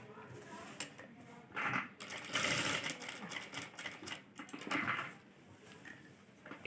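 A sewing machine stitches along the outer edge of buckram while a boat-neck dress or kurti is being sewn. It runs in short mechanical bursts with pauses between them, fairly close and moderately loud, and there is no clear talk.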